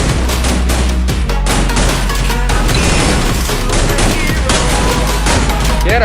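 Dense, rapid gunfire, including sniper and automatic weapons in a mobile battle-royale shooter game, rattles loudly and nonstop in close bursts with booms mixed in.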